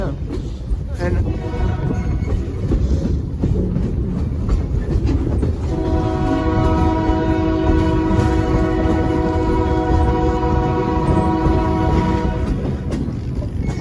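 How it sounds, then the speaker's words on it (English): A train horn sounds a long sustained blast for a highway crossing on a heritage excursion railway, loud and close over rumbling, clattering wagons, with people talking. "the whistle signal for the crossing at Highway 24"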